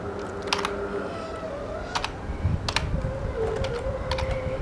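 Keys on a computer keyboard tapped in a few scattered clusters, entering a name into Scratch while building a Flappy Bird game, with a steady room hum underneath and a faint tone in the background.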